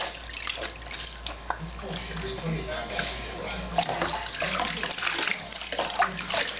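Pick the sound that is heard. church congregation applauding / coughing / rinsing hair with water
rinsing hair with water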